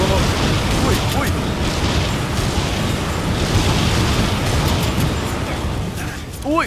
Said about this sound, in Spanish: también me hacen daño a mí las explosiones